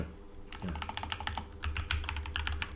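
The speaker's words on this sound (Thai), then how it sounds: "ผมก็พิมพ์ Flutter" Fingers typing on a computer keyboard nearby, a quick, uneven patter of light key clicks that picks up into faster bursts, with no talking.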